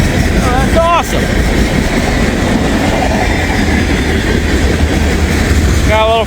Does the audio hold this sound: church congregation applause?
no